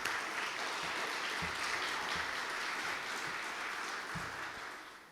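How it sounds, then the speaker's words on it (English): An audience at a Nigerian excellence awards night in London gives a steady, sustained round of applause that slowly fades toward the end. "he deserves a big round of applause"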